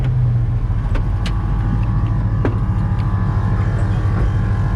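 Inside a truck on air suspension during a road test, a constant heavy low engine rumble and road drone fills the cabin, with a few faint clicks and knocks over it.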